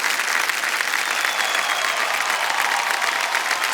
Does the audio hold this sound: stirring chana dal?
no